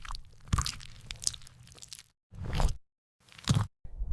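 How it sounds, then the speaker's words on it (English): Teeth chewing food: crisp, wet crunches and bites come in bursts separated by short silences, close and intimate, with no talking. "where teeth chew the food."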